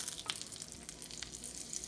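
Butter sizzles steadily in a pan for shrimp scampi with garlic and oil, a soft continuous crackle with a few brighter pops, fairly quiet and close, no talking.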